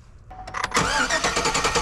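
A Chevrolet Silverado truck (1998-2007) engine cranks over loudly and close up, a steady rapid churning with no one speaking.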